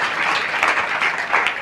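Audience applause at a spoken message gathering, a brief burst of dense clapping at steady loudness with no voices over it.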